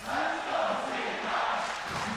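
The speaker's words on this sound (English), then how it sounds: "You can hear the crowd" Live arena crowd roaring steadily through a League of Legends Worlds group-stage match, a broad wash of cheering that swells and holds at a fairly loud level without breaks.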